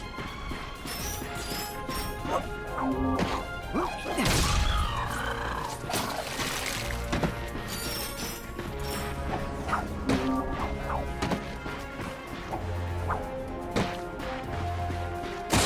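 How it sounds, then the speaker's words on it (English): Wooden crates splintering and crashing open one after another in Ratchet & Clank on PS4, with loud smash hits and whooshes amid busy game music and effects. "Look at him smashing crates."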